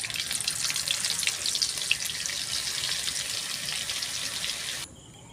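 Butter and onions sizzling in hot oil, a bright, steady crackling fry close by that cuts off abruptly near the end.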